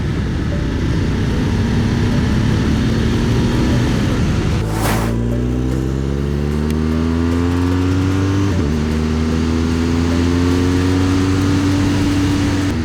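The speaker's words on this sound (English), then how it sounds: "Extremely responsive engine." BMW motorcycle engine on a race track, loud and close, holding a steady high drone, then shifting pitch twice as the bike changes gear and accelerates, with a sharp burst of noise near the first shift and no talking.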